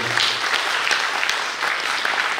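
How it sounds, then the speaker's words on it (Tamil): Audience at a Tamil awards and fashion event breaks into steady, dense applause, many hands clapping together at close range throughout. "அதுக்கு ஒட்டுமொத்த ஒரு கைத்தட்டல் வந்து நீங்கள் கொடுத்துடலாம் தயவுசெய்து."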